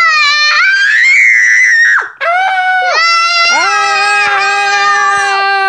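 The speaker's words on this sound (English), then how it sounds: "We don't know what it is, so we're screaming." An adult and a child scream loudly for fun. The long, high, wavering shrieks overlap and break off briefly partway through before starting again, close and intense.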